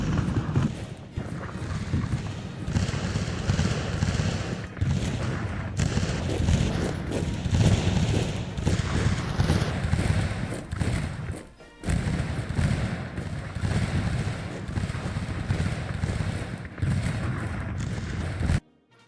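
Artillery fires on cavalry in the Lines of Battle war game, a dense barrage of overlapping booms and thuds with scattered musket crackle that runs loud and nearly unbroken, dropping briefly once partway through.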